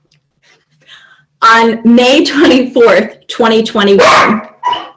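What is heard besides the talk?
dog barking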